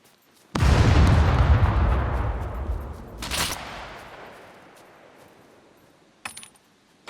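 A grenade explosion in the video game Scum, one loud booming blast with a long rumbling decay, a second smaller burst soon after, then a brief rattle of distant gunfire near the end.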